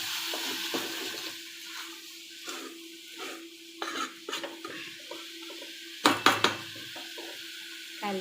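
Onions cooking with salt in a pan, stirred with a utensil: soft sizzle under intermittent scraping and clinking strokes, with a sharper cluster of knocks near the end, close and fairly quiet.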